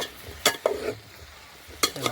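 Broad bean curry is stirred in a pan over a wood fire, with a few distinct scraping strokes of the spoon over a soft background sizzle, close and brief.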